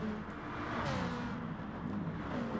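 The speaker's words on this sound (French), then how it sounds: "La réaccélération de la Ferrari qui restera devant." Ferrari race car in Gran Turismo Sport accelerating out of a corner, a steady engine drone with rising pitch sweeping through the gears, fairly loud and continuous with no voices.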